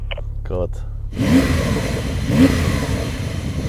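Porsche 911 Turbo S engine with an upgraded exhaust revving hard in two loud surges over a steady idle rumble, after a brief spoken exclamation at the start.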